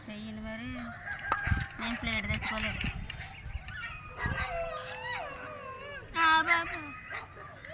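Dogs yelp and howl in wavering, drawn-out cries, mixed with people talking nearby.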